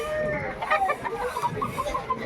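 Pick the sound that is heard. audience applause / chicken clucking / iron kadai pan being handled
chicken clucking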